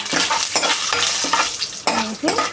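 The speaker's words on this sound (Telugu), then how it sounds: "ప్యాన్లో నూనె పోసండి దాంట్లో దానిమ్మ గింజలు పల్లీలు తర్వాత ఉల్లిపాయ పచ్చిమిర్చి వేసి" Peanuts, pomegranate seeds, onion and green chilli frying in oil in a pan, a loud close sizzle broken by repeated scraping stirs and clinks of a utensil against the pan.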